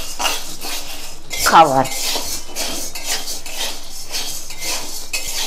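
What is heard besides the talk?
stirring sago pearls in a pan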